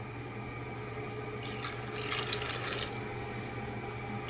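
Water splashes and trickles into a jar for a little over a second, moderately close, over a constant low electrical hum; no speech.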